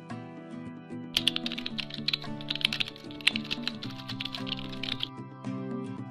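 Rapid keystrokes on a computer keyboard as a command is typed, a close, clear run of clicking taps lasting several seconds, starting after a quiet opening with a faint tonal hum beneath.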